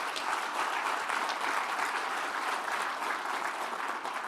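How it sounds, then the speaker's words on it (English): An audience at the 2022 Livonia State of the City Address claps steadily. Dense, even applause runs throughout at a consistent loud level. "And that deserves a big round of applause."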